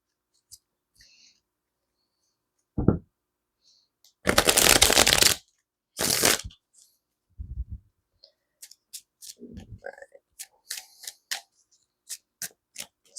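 Tarot cards shuffled by hand in a few distinct riffling bursts, the longest lasting about a second, with softer taps and card handling between them, close and clear in a quiet room.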